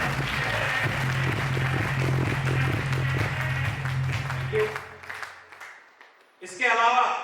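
Strong applause from an audience at a business gathering, loud and continuous for several seconds, then thinning into scattered claps and murmurs before voices rise near the end.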